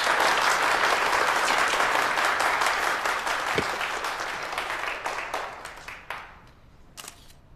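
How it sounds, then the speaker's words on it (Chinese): Dense audience applause at a makeup competition, loud and sustained at first, then thinning out into scattered final claps before fading away. "掌声有请。"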